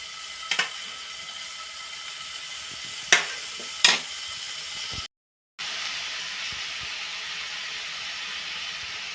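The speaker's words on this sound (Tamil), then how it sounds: "இப்போ கீ சூடான உடனே இதில் நம்ம இந்த மசாலாலாம் ஃபிக்ஸ் பண்ணி வச்ச இந்த பன்னீரை இதில் ஒன்று ஒன்று நம்ம சேர்த்துக்கலாம்." Cubes of masala-coated paneer frying in hot ghee give off a steady, faint sizzle with a few sharp crackles and pops, and a brief silent gap partway through.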